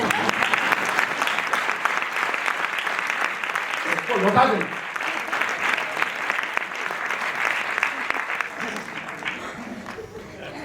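An audience at a Digambar Jain temple event applauds steadily, a dense continuous wash of clapping lasting the whole clip, with a voice briefly speaking over it midway.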